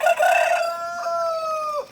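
A rooster crows once, close and loud, in a long drawn-out call that rises and then holds steady before breaking off, heard among a mixed flock of adult chickens and young birds.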